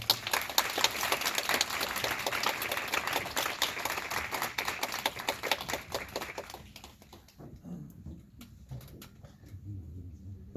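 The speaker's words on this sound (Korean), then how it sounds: "박수 한번 부탁드립니다." A cinema audience at a post-screening talk applauds as the actor and director come forward, brisk clapping for about seven seconds before it thins out and trails off into a quiet room.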